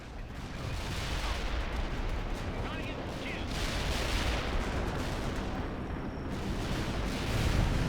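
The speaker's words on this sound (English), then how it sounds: "They're about to carpet bomb the shit out of the Americans. We are dropping our payload." A carpet bombing airstrike in the war video game World in Conflict rolls on as a dense, continuous roar of overlapping explosions and rumbling blasts that swells and lingers, with radio-style speech faintly mixed in.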